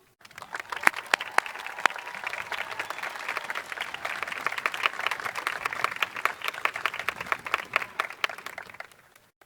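Graduation ceremony audience applauding steadily for about nine seconds, a dense wash of many hands clapping at moderate distance with a few sharper individual claps standing out, fading at the end.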